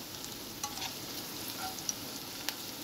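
Garlic cloves frying in a pan for Chinese rice, giving a steady soft sizzle with a few faint clinks of stirring, quiet and continuous with no talking.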